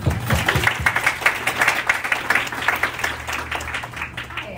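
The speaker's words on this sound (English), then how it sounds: "Round of applause." An audience applauds a speaker at a talk steadily, many hands clapping in a dense patter that holds for several seconds and slowly tapers.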